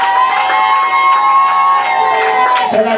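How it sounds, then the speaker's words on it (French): A church congregation cheers and acclaims the Lord in a loud, sustained roar of voices and shouts, steady throughout before tapering at the end. "Est-ce qu'on peut acclamer le Seigneur?"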